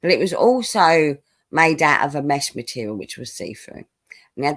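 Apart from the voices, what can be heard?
None of the usual background noises is heard.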